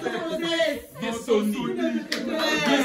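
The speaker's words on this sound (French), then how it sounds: "Applaudissez pour tonton Play" Audience clapping for an uncle at a live family celebration, irregular hand claps mixed with chatter and voices talking over them, uneven and moderately close.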